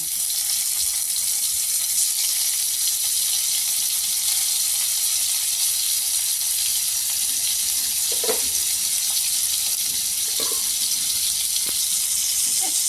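Tomatoes frying in hot oil in a pan give off a steady, close hiss of sizzling that holds for the whole stretch, with a few soft knocks and no talk.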